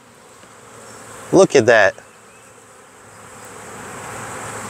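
Bees at a hive being checked ahead of the nectar flow, giving a steady low buzzing hum behind a brief spoken remark.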